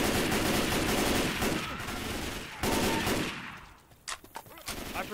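Gunfire in Left 4 Dead 2 rattles in rapid, loud automatic bursts for several seconds, then thins into a few scattered separate shots as the firing fades.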